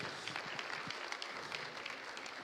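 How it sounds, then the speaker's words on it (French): A church congregation applauds during a service, a faint, even patter of many hands clapping that holds steady for a couple of seconds, somewhat distant. "On peut les applaudir."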